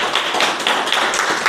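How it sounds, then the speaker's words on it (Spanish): Church congregation applauding together in a steady, dense wash of clapping, close and loud, with no talk over it. "Vamos a dar un fuerte aplauso al Señor"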